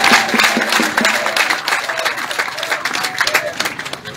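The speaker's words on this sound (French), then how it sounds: "Applaudissez le ministre secrétaire d'État," An audience at a political gathering in Tabagne bursts into dense, loud applause for a minister, a thick roar of many hands that slowly thins and turns more scattered toward the end.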